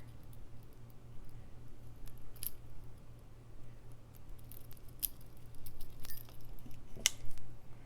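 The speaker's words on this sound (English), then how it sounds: "Trim off the edges and trim off this tail as well." Scissors trimming the fabric edges and a thread tail on a slow-stitched ornament, heard as a few quiet, sparse snips and clicks over a low steady hum.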